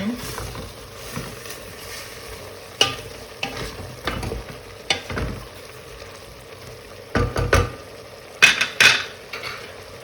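Food sizzles steadily in butter in a pan while a utensil scrapes and clanks against it in irregular strokes, close up.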